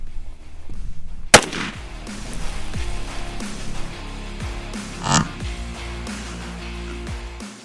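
A single sharp, close rifle report from a .308 AR-10 fired at a gallon milk jug, followed by a second, quieter impact-like burst a few seconds later amid low outdoor background noise, with no talking.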